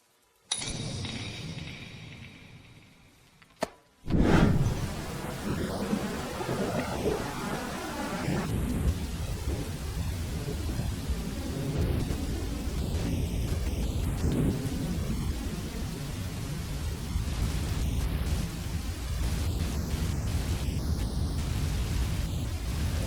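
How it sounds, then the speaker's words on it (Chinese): After a few quiet seconds, a sharp crack of thunder breaks into heavy, steady rain pouring outside, loud and dense for the rest of the scene in a Chinese short drama, with no one speaking. "天色太晚了，外面在下雨"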